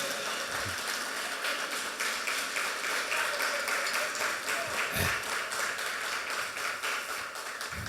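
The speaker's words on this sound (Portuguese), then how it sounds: "Você pode ficar de pé e agradecer a Deus com um aplauso lindo nesse momento?" A church congregation applauds together at a service, steady broadband clapping filling the room throughout with a few louder taps, no speech over it.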